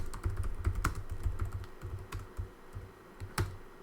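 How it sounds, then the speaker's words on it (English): Rapid clicking of keys on a computer keyboard, typed in uneven bursts with short pauses, close and fairly quiet, with no voices. "come on, I can't type"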